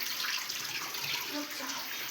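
Water rushes and trickles in a steady stream inside a cave temple, a soft continuous gush with a faint enclosed echo.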